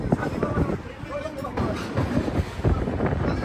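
The Nizamuddin Express rumbles along on its journey from Kochi toward Delhi, a continuous low roar with faint rhythmic clatter and wind buffeting, heard from inside the moving train.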